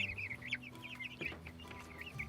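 Chickens and roosters at a homestead feeder cluck softly and chirp in quick, overlapping bursts, close but low in level, with no talking.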